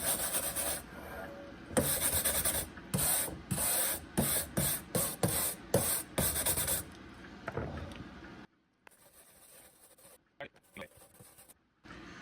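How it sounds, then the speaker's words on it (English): Silvering compound is rubbed onto a clock dial with a sock, a close, scratchy rasp in quick rhythmic strokes that speed up, then a quieter stretch with a few softer rubs. "socks are great for this because they've got a texture that kind of rubs in as well, a little better than a smooth cloth."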